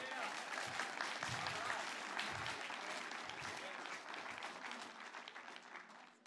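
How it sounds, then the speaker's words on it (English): Congregation in a church giving Jimmy a round of applause, dense clapping that stays strong for several seconds and then gradually thins and fades, with some voices murmuring underneath. "give Jimmy a round of applause"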